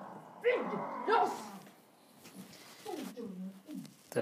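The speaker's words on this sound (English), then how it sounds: "The dog is eating on the gloves." A dog chewing on leather gloves gives a few close, rough growling and whimpering bursts early on, then quieter grumbles and mouth noises, with a person speaking now and then.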